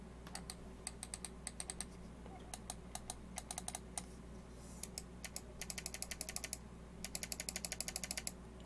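Zowie EC1-B gaming mouse side buttons clicked repeatedly, sharp close clicks in irregular bursts, some single and some rapid runs, over a quiet steady hum.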